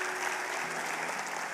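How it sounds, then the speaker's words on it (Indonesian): Church congregation clapping during a sermon, a brief burst of lively applause at steady moderate loudness, with a faint sustained tone beneath the clapping. "Kasih tepuk tangan yang paling meriah buat Allah kita."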